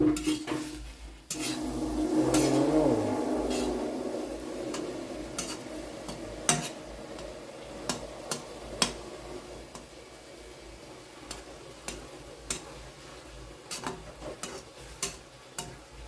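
A utensil scrapes and clinks in a pan of insects being roasted with too much water, a soft simmering hiss beneath occasional sharp taps; close and fairly quiet, no talk.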